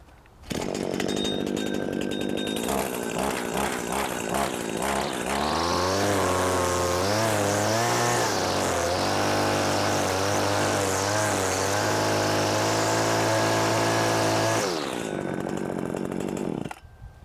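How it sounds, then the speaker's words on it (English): A motor engine, like a lawn mower, starts up and runs with a loud, steady drone for several seconds, then cuts off. "What about lawn mowing?"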